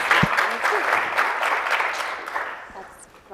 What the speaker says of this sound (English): join me real quick in applauding and thanking them for being here